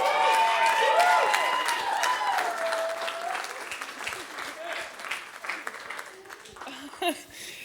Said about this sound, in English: can we just have a quick clap for the way she's wearing that dress tonight?